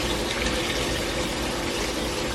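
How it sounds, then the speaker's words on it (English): Water is poured into a pot to cover pieces of meat for a traditional Jamaican Sunday dinner, a steady close gushing splash that runs unbroken and fairly loud throughout. "So we have about 6 cups of water."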